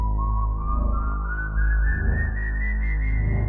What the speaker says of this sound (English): who always entered the house whistling a musical scale